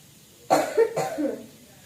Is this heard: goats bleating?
no